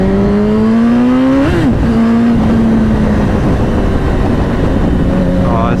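A 2007 Yamaha R1 motorcycle engine drones steadily while riding, its pitch climbing then dipping around a gear change before settling and rising again, loud and close over constant wind rush.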